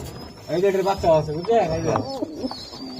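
Budapest and racing pigeons cooing in soft, throaty rolls, close by, with voices talking over them at a pigeon sale.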